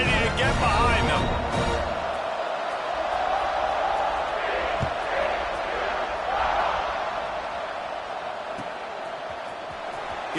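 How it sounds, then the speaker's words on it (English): A stadium crowd roars before a Georgia vs TCU college football kickoff, a broad sustained din that swells and eases while a commentator talks over it. "Set to kick it off, and this crowd now ready to get behind them."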